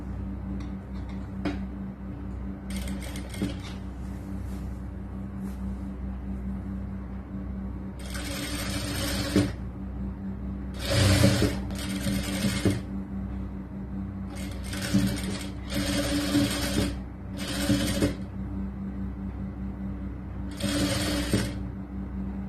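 Sewing machine stitching the neck lining of a churidar top, running in several short bursts of rapid whirring between quieter pauses with faint ticking handling sounds.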